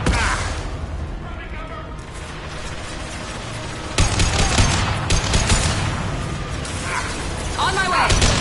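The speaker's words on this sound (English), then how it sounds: "Firing an impact shot!" Impact shot gunfire in the Mass Effect 2 Legendary Edition video game, bursts of weapon fire and mechanical clatter under ongoing combat noise, with a louder surge about halfway through; voices talk throughout.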